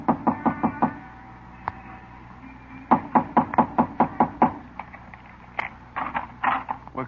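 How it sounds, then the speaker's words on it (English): Knuckles rap on a door as a radio drama effect, in several quick bursts of three to five sharp knocks separated by short pauses, close and clear, with no voices. "Knock on the door."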